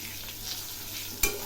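Pointed gourd with turmeric stirred in a hot pan, a brief soft sizzling scrape ending in one sharp clack of the utensil against the pan, close and alone without talk.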